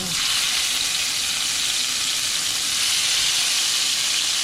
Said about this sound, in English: we're not frying them, we're just kind of like browning them